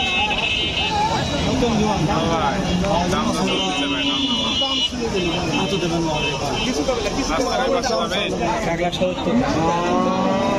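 A large Friesian dairy cow moos at a busy cattle market, deep drawn-out lowing calls repeating under constant chatter and crowd noise from people nearby.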